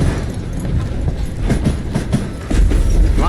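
A steam-era train rolls along in Call of Juarez, a loud continuous rumble with rhythmic clickety-clack of wheels on rails, growing heavier near the end.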